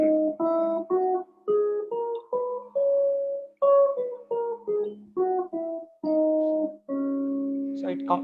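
Mandolin plays raga Harahara Priya as a solo, a stepwise run of plucked, sustained notes with short gaps between phrases, clear and close with no voices.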